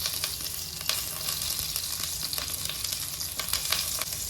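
Green chillies, nigella seeds and turmeric frying in hot mustard oil in a home kitchen pan, a dense continuous sizzle and crackle with brief spits and pops, close and steady, no voices.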